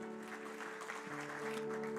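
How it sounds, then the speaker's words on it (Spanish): Steady applause from a church congregation fills the clip, continuous clapping with a low hum underneath and no distinct voices. "Denle un aplauso fuerte al Señor"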